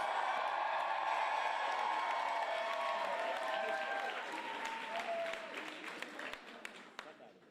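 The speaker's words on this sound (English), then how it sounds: "Give her a big round of applause." Crowd at a Hillary Clinton campaign event in Atlanta applauds with cheers and whoops, a loud dense burst that gradually thins to scattered claps, with voices mixed in.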